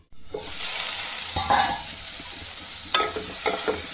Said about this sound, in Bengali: ঢাকাটা খুলে নিয়ে আবারও একটু নেড়ে দিলাম।